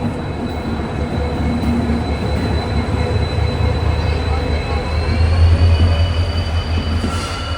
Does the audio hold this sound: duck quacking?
no